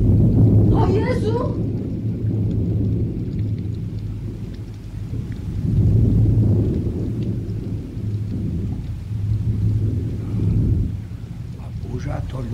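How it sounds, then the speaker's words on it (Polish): A thunderstorm with steady heavy rain and repeated rolling thunder rumbles swelling and fading, loud and close throughout, with voices faintly mixed in. "A burza to lubi nawracać."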